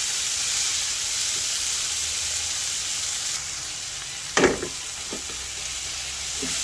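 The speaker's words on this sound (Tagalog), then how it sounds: "As always, lutuin maigi ang kamatis." Tomatoes sauté in a pan for gisang ampalaya, giving a steady close sizzle throughout, with a sharper spatter or stirring clatter partway through and a few lighter clicks after.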